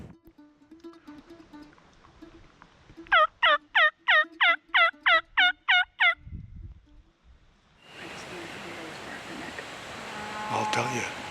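A rapid series of about ten loud wild turkey gobbles rings out in a tight rhythmic burst during a hunt, followed by rustling and breezy outdoor noise.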